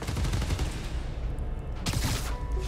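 Gunfire from robbers in the Spider-Man: Miles Morales video game, a dense steady barrage of shots heard throughout, with a brighter burst near the end.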